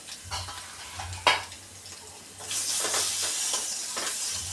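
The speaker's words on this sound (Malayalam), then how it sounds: "ഇത് എണ്ണയിലിട്ടൊന്ന് കുറച്ച് റോസ്റ്റ് ചെയ്തെടുക്കാം." Boiled eggs rubbed with chili powder and salt hit hot oil, giving a few soft scrapes and a low hum before a broad, steady hiss of frying swells up and holds, close and moderately quiet.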